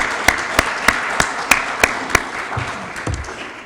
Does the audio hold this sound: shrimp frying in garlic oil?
no